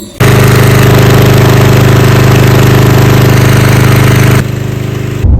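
A Daewoo generator with a faulty AVR runs loud and close, a steady, heavy, buzzing engine drone that holds constant for several seconds before dropping slightly in level near the end.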